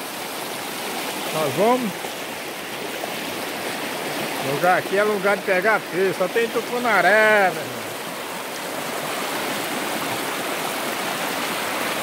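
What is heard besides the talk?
rushing river water at a fishing spot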